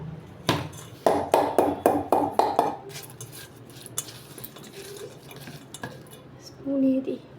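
Frying food being stirred in a pan, with a burst of quick, rhythmic metal scrapes and clinks of a spoon against the pan, then quieter sizzling and occasional taps, close up, with a voice speaking briefly.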